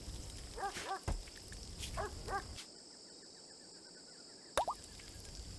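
RimWorld puppies yip and bark in short high bursts, a few quick clusters separated by brief clicks and drips, fairly faint, with a quiet pause before one more yip near the end.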